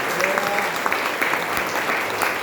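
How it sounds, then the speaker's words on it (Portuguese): A church congregation claps in praise, giving a steady wash of applause with a voice audible under it. "Dê uma salva de palmas agora ao nosso Deus."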